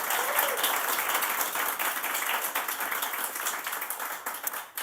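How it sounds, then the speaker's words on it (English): An audience at a political launch event gives sustained applause for a speaker, a dense even wash of clapping that holds for several seconds before tapering. "So I think a huge round of applause for Michelle for all the work that she's done."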